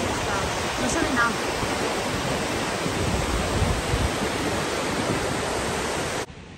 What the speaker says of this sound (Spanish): la cascada espectacular